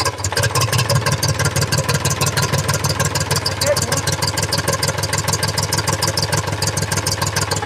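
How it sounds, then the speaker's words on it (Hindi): An Eicher 485 tractor with a white smoke and starting problem runs with a loud, close, rapid rhythmic chugging that sputters unevenly. Someone talks over the engine. "जैसे मैं उसको रेस दूंगा ये ट्रैक्टर फड़फड़ाएगा।"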